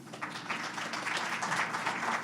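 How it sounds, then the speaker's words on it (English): An audience at a board of education meeting breaks into steady applause, a sustained wash of many hands clapping at moderate distance. "Again, I'm going to ask you to please refrain from applause."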